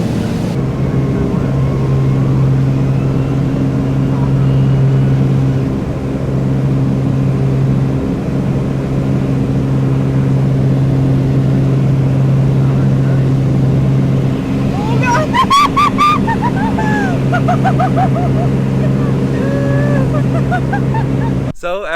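Steady droning engine of an old light aircraft in flight, a loud continuous hum throughout with a voice speaking briefly over it near the end.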